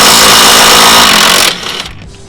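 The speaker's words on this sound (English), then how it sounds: "I'm gonna see if I can break them off with my little impact I got here." A small impact wrench hammering loudly and continuously on 18 mm bolts at the shock mounts of a Mustang, then cutting out abruptly as the clatter fades.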